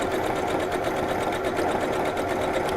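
A sewing machine runs continuously at a steady, fast rhythm, stitching fabric with its stitch set to the longest length; the whirring mechanical chatter is close and even throughout, with no talking.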